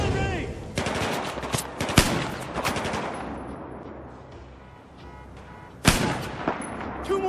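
Rapid automatic gunfire in Battlefield 4 during the Baku mission, dense bursts of rounds in the first three seconds easing off, then a sharp loud burst near the end, with a voice briefly heard under the shooting.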